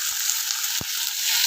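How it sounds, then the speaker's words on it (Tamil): Ground garlic paste sizzles in hot oil with mustard seeds, urad dal, curry leaves and dried red chilies in a pan for Chettinad-style spicy chutney, a steady close frying hiss with one brief stir-like scrape. "இது கொஞ்சம் நல்லா வதங்கட்டும்."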